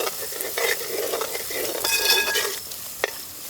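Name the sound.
ginger garlic paste and masala frying for fish pollichathu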